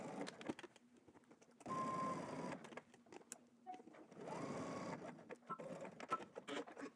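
A home sewing machine runs a straight stitch on a vertical knit seam in several short bursts of whirring, with quiet pauses between them.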